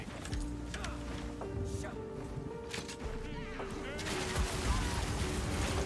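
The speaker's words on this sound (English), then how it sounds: "Ooh, that was a crazy cool explosion." Gunfire and explosions from the video game Bulletstorm, played with a Witch Hunter build: a dense, continuous stream of firing, impacts and blasts that swells louder toward the end, with game sound effects layered throughout.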